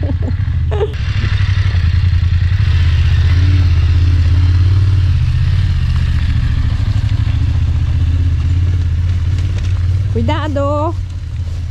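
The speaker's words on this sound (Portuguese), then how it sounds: "o Ricardo tá vindo ali na moto." A motorcycle engine drones loud and steady as it rides down a rocky mountain road on the Serra da Rocinha, with a voice calling out briefly near the end.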